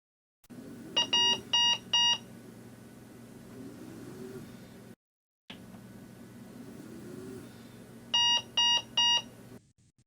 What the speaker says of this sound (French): Une alarme de priorité moyenne est désignée par 3 signaux, avec une fréquence plus basse qu'une alarme de priorité élevée